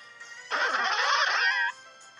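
Floatzel's cry in Pokémon Showdown: one short, bright, warbling electronic call lasting just over a second, moderately loud against a faint background.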